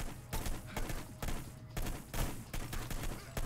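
Rapid, loud shotgun blasts fire in steady bursts during a Hitman: Blood Money shootout, each shot a sharp broadband crack repeating roughly every half second, with no voices over them.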